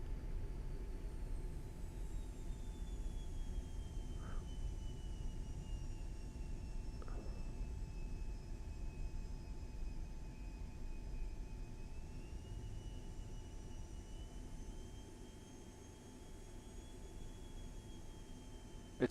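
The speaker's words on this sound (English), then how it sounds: "It's fun to fly this airplane" Airplane in the X-Plane 12 flight simulator taxiing to park, a faint steady engine whir and hiss with a thin whining tone that drifts in pitch, a couple of soft clicks, and no voices.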